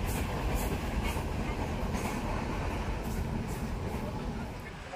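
Inside a moving passenger train departing Panvel, a loud steady rumble of wheels and carriage noise fills the whole stretch, easing slightly toward the end, with no clear speech.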